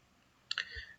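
A single computer mouse click, a quick crisp double tick, close and faint against near silence.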